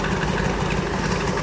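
A vehicle engine runs steadily at a low even rumble, close and constant, with no talk over it.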